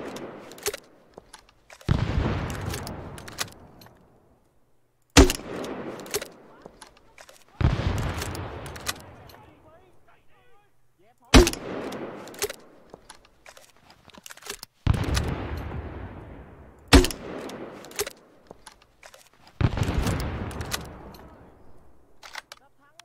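Gunfire in the military game Arma 3: six separate loud shots or short bursts, each with a sharp crack and a long rolling echo fading over a couple of seconds, spaced about every three to four seconds.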